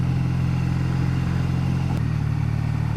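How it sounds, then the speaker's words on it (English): A 2014 Triumph Bonneville motorcycle's exhaust note, a low rumbly steady drone that drops slightly in pitch partway through, as if on a gear change or easing off, with wind noise during the ride. "I like the exhaust note. It's low, rumbly, but very pleasant."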